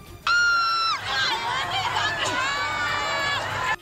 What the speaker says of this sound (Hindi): मौके पर चीख पुकार मच गई और अफरा तफरी का माहौल बन गया।